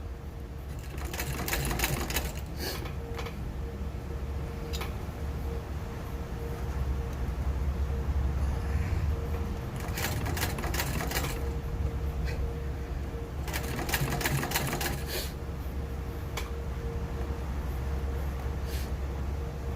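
A sewing machine stitches a Civil War valise in bursts of rapid mechanical clatter, separated by stretches of lower motor hum. Pigeons coo faintly in the background.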